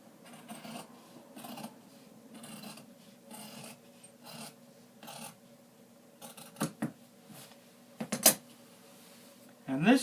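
Scissors cut out a scallop shape in fabric for a tailored valance, a series of soft rasping snips in steady bursts, with a few sharper clacks near the end and quiet room tone between.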